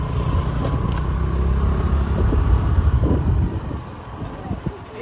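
A car idling and rolling slowly to a stop in a parking spot at a hilltop temple, a steady low engine rumble with some wind buffeting that eases off toward the end.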